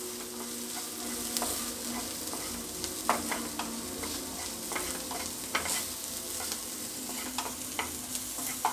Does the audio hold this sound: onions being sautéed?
yes